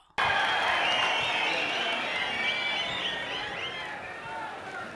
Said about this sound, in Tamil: வங்கக் கடலின் ஆர்ப்பரிப்பை விஞ்சிய தொண்டர்களின் ஆரவாரம் இது